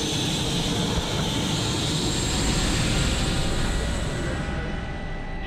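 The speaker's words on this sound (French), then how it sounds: "ça fait pas mal de bruit dans l'hélicoptère, ça c'est normal" Loud, constant engine and rotor roar inside the cabin of a Rega rescue helicopter in flight, a dense steady drone with a high whine that eases slightly at the end.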